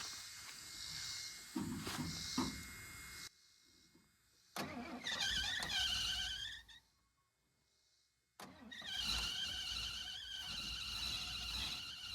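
An old RV that sat unused for over two decades cranks and fires, running briefly, cutting out, then catching again and running on, with the engine close and fairly loud.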